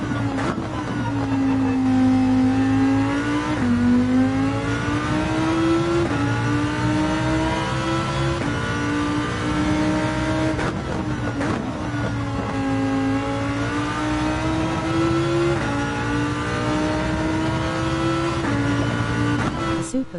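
A car engine in Gran Turismo 7 on PS5 VR revs loudly and continuously for about twenty seconds, its pitch rising and dropping through repeated gear shifts, with a whiny, hairdryer-like tone and no talking.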